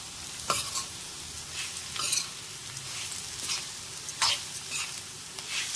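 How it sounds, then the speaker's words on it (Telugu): Spice tempering crackling in hot oil for a coriander-tamarind chutney, with asafoetida in the pan: a steady soft sizzle broken by a few sharper stirring scrapes and pops, close and moderately quiet, with no talking. "పోపు వేగింది దీంట్లో వేసాము"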